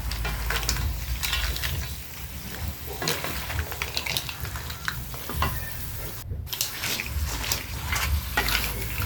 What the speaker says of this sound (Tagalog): Ayan, hinahalo mabuti para mas kumapit yung mga sarsa.